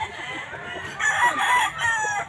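A rooster crows at a pet market tiangge in San Jose del Monte, Bulacan, with repeated crowing phrases over a steady din of other fowl clucking nearby.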